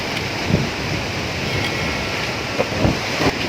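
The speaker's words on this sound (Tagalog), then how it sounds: "grabe po ang lakas ng hangin" Strong wind gusts around a pili nut tree in the Philippines, a steady broadband roar with brief buffeting bursts against the microphone, close and fairly loud, with no voices.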